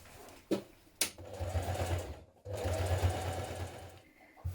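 Domestic sewing machine stitching dungaree pieces with heavy top-stitch thread, joining back shorts to the bib in two steady bursts of motor whirr and needle chatter, separated by a brief pause, with a few sharp clicks near the start and end.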